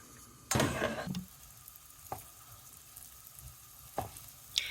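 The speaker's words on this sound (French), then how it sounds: "je vais faire revenir mes pommes dans l'huile à feu vif pendant quelques minutes" Potatoes or apples hit hot oil over high heat with a sudden loud sizzle that fades, followed by a few short, sharp spatters and stirring clicks against a quiet background.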